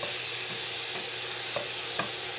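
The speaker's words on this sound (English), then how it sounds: "I'm going to start searing up these steaks" Pork collar steaks sear in a cast iron pan with a steady, dense sizzle that holds close and loud throughout, broken by a few faint pops.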